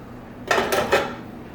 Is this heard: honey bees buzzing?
no